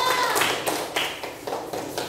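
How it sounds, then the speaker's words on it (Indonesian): Students in a classroom clap their hands, a short burst of uneven claps and taps fairly close, fading slightly over two seconds. "Ya, tepuk tangan boleh juga."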